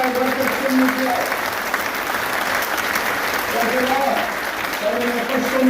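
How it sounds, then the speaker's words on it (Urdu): Audience applause fills a political gathering, steady and dense across the whole span, with a voice speaking over the clapping at intervals. "ان کے لیے تالیاں بجائیں جو انہوں نے کل کیا ہے"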